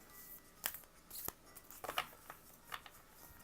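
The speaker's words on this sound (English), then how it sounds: "Give it one more shuffle." A deck of Mystical Shaman oracle cards being shuffled by hand, producing soft, quick papery riffles and taps at close range in a quiet room.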